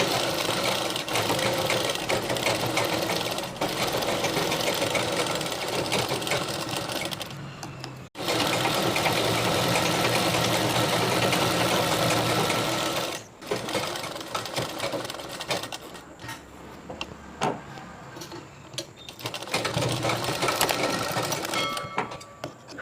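Sewing machine running in long steady bursts while stitching a border along the edge of a small skirt for a goddess idol, loud and close with brief pauses between runs.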